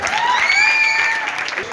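Audience applause at a Jain community talk in Rapar: a dense, steady burst of clapping from a seated crowd that holds loudly for under two seconds, with a voice rising over it.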